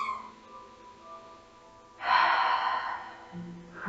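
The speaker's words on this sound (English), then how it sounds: "go ahead and just take a breath to prepare" One deep breath is drawn in through the mouth, a loud, airy inhale lasting about a second, with a soft tonal backdrop before it.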